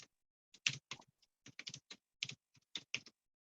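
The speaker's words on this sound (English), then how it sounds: "I hear someone typing." Computer keyboard typing during a business meeting, sparse irregular keystrokes in short bursts, sounding near and quiet in a silent room with nothing else audible.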